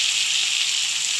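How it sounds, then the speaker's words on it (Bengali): Tomatoes fry in a pan with fish heads, giving a steady, close, even hiss of sizzling oil with no talk. "টমেটোটাও ভেজে নেবো ভালো করে।"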